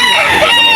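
A rooster crows in one loud, continuous call, close and bright, filling the whole moment with no voices over it.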